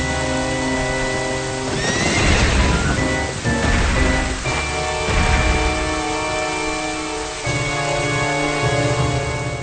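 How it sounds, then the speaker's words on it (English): Horse whinnies ring out in the intro of a Zelda video game, where Link rides across Hyrule: several loud, drawn-out neighs over a sustained musical backing, clear and close. "the simple yet stunning animation of Link riding a horse through the vast land of Hyrule"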